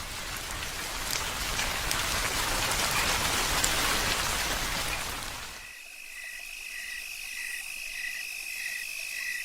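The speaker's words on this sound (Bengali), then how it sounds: "বাইরে এখনও ঝিরঝিরে বৃষ্টি হচ্ছে" Light drizzle patters steadily outside on a village evening for several seconds, then fades to a quieter night backdrop of chirping crickets and insects.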